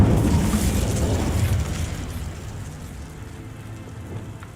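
A fire spell cast in the video game Hogwarts Legacy bursts out with a loud, roaring crackle like a rush of flame or heavy rain, then slowly fades over several seconds with no voices.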